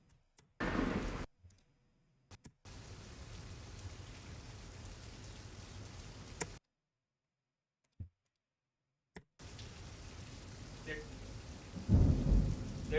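Rain patters steadily outside a window in stretches broken by silent gaps, with a deep rumble of thunder building loud near the end of the storm.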